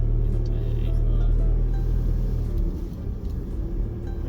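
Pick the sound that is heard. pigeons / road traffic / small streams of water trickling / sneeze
road traffic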